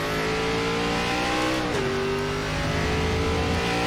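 A race car in the iRacing sim on the Indianapolis road course, ARCA Series, its engine revving loud and steady with a pitch that dips around a shift and then climbs again, with no talk over it.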